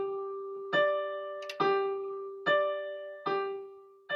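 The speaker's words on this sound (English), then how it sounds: "I would tune my tanpura to play in that key." Tanpura drone tuned to G with its second string to D, four plucked strings sounding in slow succession about once a second, each ringing with rich buzzing overtones that sustain and overlap into a continuous looping drone, close and clear with no voices.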